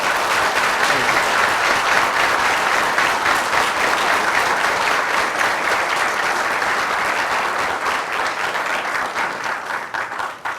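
Dense, sustained applause from a large lecture audience honoring Dr. Peter Kreeft, loud and steady throughout before tapering slightly at the very end, with no voices over it.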